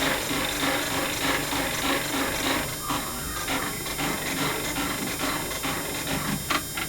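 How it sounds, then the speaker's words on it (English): An embroidery sewing machine stitches rope bowl handle pieces together, a loud continuous rapid whirring and needle clatter that holds steady throughout, close up and with no talk over it. "So we are stitching together those two handle pieces, which then flow seamlessly into the bag."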